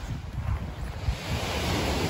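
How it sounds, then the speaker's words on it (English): Ocean waves wash and crash onto a beach under gusty wind buffeting the microphone, a continuous rushing surf with swells rising and falling, no voices. "Love the sound of those waves crashing."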